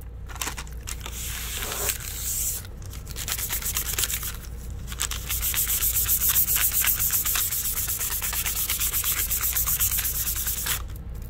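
Printer paper rubbing over an acrylic-painted gray surface in place of sandpaper, a steady close scratchy sanding rasp with rapid back-and-forth strokes, briefly pausing twice and then continuing evenly without talk.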